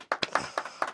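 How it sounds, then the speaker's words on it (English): Four sharp hand claps land in an even, brisk rhythm, close and fairly loud, with nothing else underneath. "Let's do the clap."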